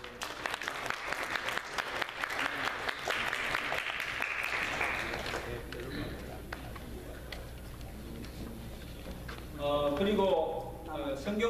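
A church congregation at a Christmas Sunday worship service breaks into sustained, dense applause that fills the room, then fades into quieter rustling before a brief swell near the end.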